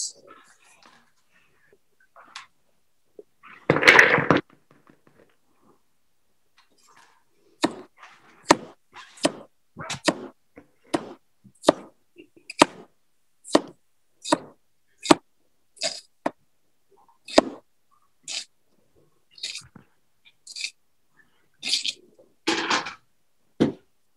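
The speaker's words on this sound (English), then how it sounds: "after we're done chopping the onion, we can just add it to the big bowl with the meat" An onion being chopped with a knife in a group cooking session, heard as a steady run of sharp, close knife taps, about a dozen evenly spaced strikes, with a brief burst of speech early on.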